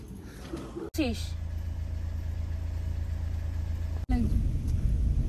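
A car engine runs steadily at idle before driving off, a low, even hum broken by brief pauses and clicks, with a voice speaking over it.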